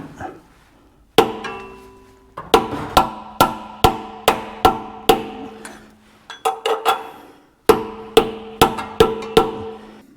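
A front main seal is driven into place on an engine with a hammer, delivering sharp metallic strikes in quick bursts of about five to eight blows, separated by short pauses.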